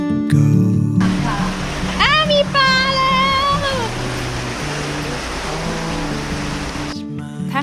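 Clear spring-fed water flows through a channel in the town of Hachiman, Japan, with fish swimming in it. It makes a steady broadband rush for most of the clip, and voices with a pitched, tonal sound ride over the water.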